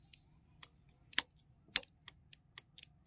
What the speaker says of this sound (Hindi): और ये फ्लैशर साउंड भी करता है